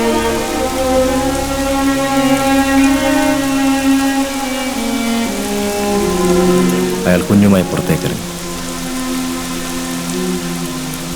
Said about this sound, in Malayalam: മഴയും ഇടിയും മിന്നലും നിറഞ്ഞൊരു വൈകുന്നേരം